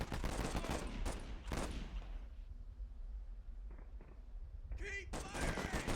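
Machine guns laying down suppressive fire in the Warfare strategy game rattle in loud rapid bursts, then drop to a quieter lull with scattered distant pops before another sharp burst and renewed heavy firing.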